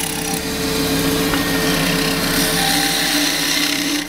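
A wood lathe turns a spillikin stick spindle while a gouge cuts along it, giving a steady, loud whirring and rasping hiss that runs unbroken through the whole clip.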